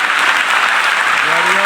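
Loud, dense applause from a church congregation fills the space continuously and close up, with a faint voice rising near the end.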